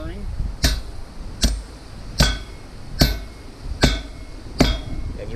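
Six sharp hammer blows land at an even, steady pace, each ringing briefly over a low background murmur.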